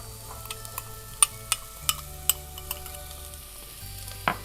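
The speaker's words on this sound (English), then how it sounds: "we put some oil and turn on the fire and we put garlic and also put" Garlic and onions frying in oil for mung bean stew, a quiet steady sizzle broken by a series of sharp ticks and pops spaced through the clip.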